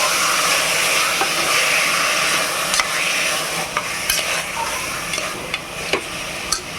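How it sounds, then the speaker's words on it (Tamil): Food is stirred in a frying pan for a lemon rice and liver fry dish: steady sizzling frying runs throughout, with scraping stir strokes and occasional sharp clicks of the utensil against the pan, and no talking. "கிண்டி எடுத்துக்கலாம்"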